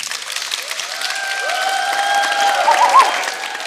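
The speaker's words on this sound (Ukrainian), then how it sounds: "Оплески, будь ласка." Studio audience applauding a guest on a Ukrainian talk show, steady dense clapping that swells slightly toward the end, with faint whistles or cheers mixed in.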